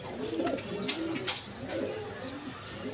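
Pigeons at a Bangladeshi pigeon sale, including a pair of Kaldom pigeons, coo in repeated low rolling phrases, close and steady, with a light chirp now and then in the background.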